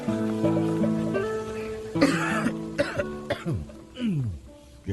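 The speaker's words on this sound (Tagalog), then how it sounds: "Mukhang sama niyang ubo mo ah." A man coughs harshly several times in close succession, loud and near, over a steady background of musical tones in an indoor dramatized scene.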